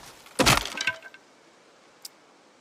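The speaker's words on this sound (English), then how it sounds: "That is the sound of a hatchet head breaking." A hatchet head breaks in a survival video game, a sharp cracking snap with brief splintering debris that fades quickly, followed by a faint single click about a second and a half later.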